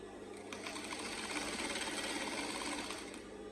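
A sewing machine runs continuously, stitching a straight line in a fast, even mechanical whir that stays steady and fairly close, starting and ending with a slight change in pace, with no talking.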